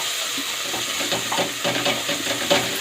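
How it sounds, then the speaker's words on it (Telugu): Ginger garlic paste with mint and coriander leaves fries in a pan with a steady close sizzle, broken by a few soft stirring scrapes, with no talking. "అల్లం వెల్లుల్లిలో పచ్చివాసన పోయే వరకు ఫ్రై చేసుకోవాలి"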